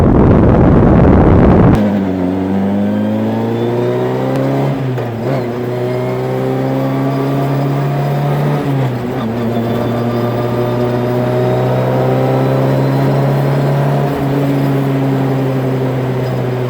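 Heard from inside the car, the engine hums loud and steady, rising in pitch through several revving gear pulls, with a burst of wind noise at the start.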